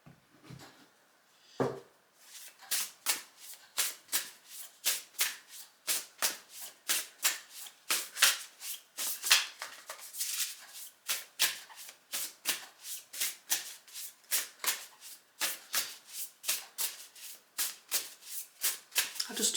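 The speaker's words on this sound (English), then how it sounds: "So let's pull some more cards." A deck of oracle cards being shuffled by hand, close and crisp: a long run of quick, evenly spaced riffling swishes, alone without talking.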